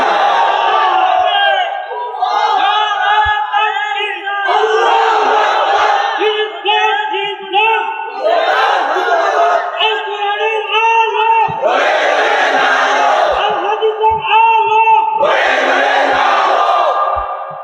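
A large crowd chants the takbir in loud, surging unison, with about six massed vocal bursts rising and falling back to back.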